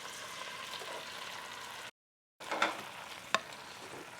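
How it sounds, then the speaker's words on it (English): Mushrooms sizzling in melted butter in a pan, a steady close frying hiss that breaks off briefly, then resumes with a few soft stirring clicks. "Once the butter has melted, we can stir in the mushrooms and let them cook until they have browned"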